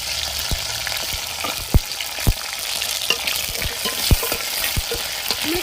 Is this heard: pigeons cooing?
no